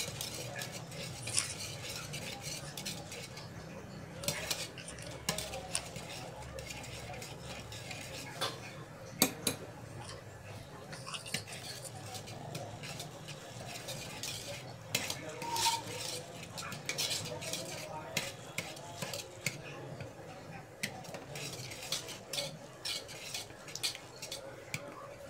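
Thick bajra (pearl millet) flour dough is stirred steadily in a pot, giving continuous scraping and stirring with utensil clinks and scrapes against the pot, heard close and at moderate volume with no talk.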